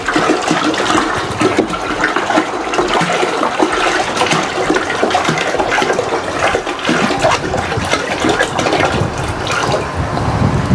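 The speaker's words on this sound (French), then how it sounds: "Et je remets 5 litres d'eau." Five litres of water pour steadily into a pot for boiling eggs, a loud continuous splashing gush close by with no talk, unbroken throughout.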